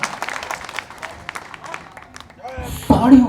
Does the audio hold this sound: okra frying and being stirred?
no